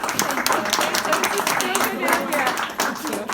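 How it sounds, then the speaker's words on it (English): People at a borough board of education meeting in Neptune City, New Jersey clap in a brisk, uneven round of applause, with voices talking over the clapping. "Can we give him a round of applause?"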